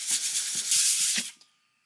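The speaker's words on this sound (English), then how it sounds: "So I'll spray it with alcohol, grab my sandpaper." A spray bottle hisses alcohol onto a resin 3D printer build plate in several close bursts, ending in a sharp stop followed by near silence.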